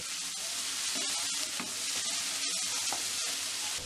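Chicken slices sizzle and fry in a pan with garlic and green pepper while being stirred, a close, continuous crackling hiss with scraping stir strokes.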